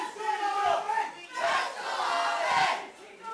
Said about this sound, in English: Rascal Army fans in full voice, as are the BTW fans.